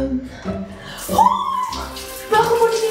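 Shower water runs and splashes in a home bathroom, close and fairly loud, with a higher voice and tonal sounds rising over the stream at times.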